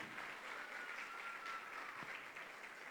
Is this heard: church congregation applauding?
yes